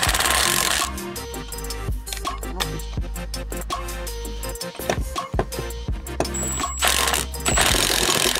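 An impact wrench works on Ford 429 engine heads in a shop, firing rapid rattling hammer bursts in uneven, loud runs over a steady low mechanical drone, with brief pauses between pulls.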